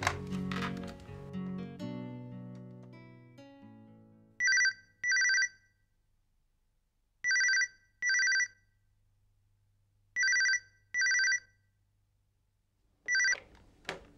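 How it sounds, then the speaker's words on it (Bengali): Outgoing phone call ringback: paired electronic ring tones repeating in regular bursts with short silences between, clear and close, after a brief stretch of muffled room sound at the start. "আমি জালালের ফোন করতেছি, দাঁড়াও।"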